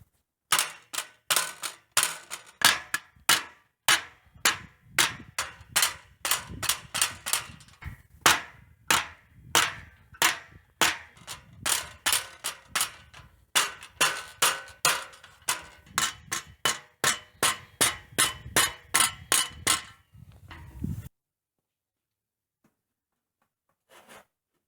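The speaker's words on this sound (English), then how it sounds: "I've spent quite a bit of time beating and banging on this piece to make it fit the best it can." A round metal bar hammering rusty sheet metal into shape: a long run of sharp, loud metallic blows in a fairly steady rhythm, dozens in a row, close up and alone, ending abruptly into quiet.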